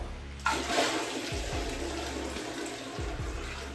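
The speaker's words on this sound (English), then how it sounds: "the toilet just flushed itself" A toilet flushes after a bucket of water is poured into the bowl: a sudden loud rush of water starts abruptly and keeps swirling and draining, close up, with no talking.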